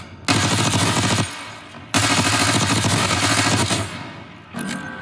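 Automatic rifle fire in the Black Ops 6 Warzone firing range, two long, loud, continuous full-auto bursts close up, separated by a brief pause, with a shorter burst at the end.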